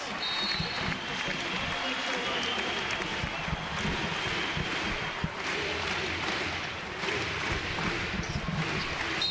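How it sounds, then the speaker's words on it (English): Basketball arena crowd on senior night at a VCU versus St. Bonaventure game, roaring and cheering in a dense, loud, continuous wash of noise with scattered claps and shouts throughout. "I had to take my headset off and listen to the crowd here"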